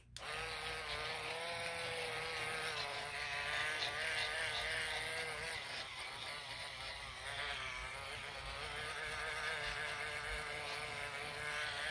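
An electric facial cleansing brush runs submerged in water, giving a steady, faint buzzing hum that holds evenly for the whole stretch with no talking over it.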